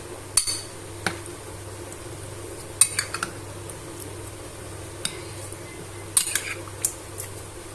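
Chicken and marinade spices being mixed in a bowl for shashlik, with scattered clinks and taps of utensil against the bowl over a quiet background, close and with no voices.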